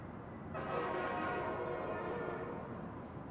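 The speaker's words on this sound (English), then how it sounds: "That train right next to my window, that was loud." A train passing right beside a window in the Spider-Man 2 video game, a loud, steady roar with a dense harmonic tone that swells in after a brief quieter moment and holds to the end.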